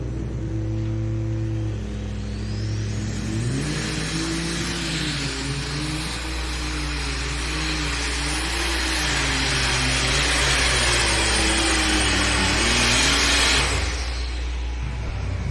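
A John Deere pulling tractor at a truck and tractor pull in Bowling Green, Ohio roars loudly through a long run, its engine note rising and wavering steadily for the whole stretch, heard from the stands.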